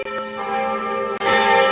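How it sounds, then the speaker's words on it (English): Top-of-the-hour church bells from St. Matthew's Episcopal Church in Kenosha ring loud and close, sustained resonant tones with a fresh strike near the middle, ringing on without talk. "Top of the hour bells."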